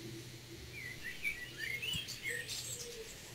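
Birds chirp in the background during an online webinar, a series of quick, thin tweets and short whistled calls repeating over a low hum, fairly faint and unaccompanied by talk.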